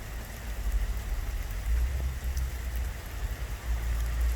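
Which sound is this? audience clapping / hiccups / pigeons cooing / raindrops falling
raindrops falling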